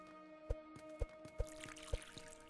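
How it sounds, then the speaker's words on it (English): Watering plants with a water jug in the game Common'hood, heard as a soft, quiet stream with four evenly spaced low thumps or splashes over a steady tonal hum. "I'm gonna water all this stuff real quick."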